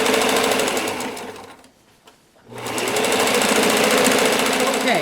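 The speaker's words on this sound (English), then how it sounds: "I'm going to sew right down" A sewing machine stitches along the edge of a quilt binding in steady, loud bursts of rapid needle hammering, pausing briefly in the middle before running again.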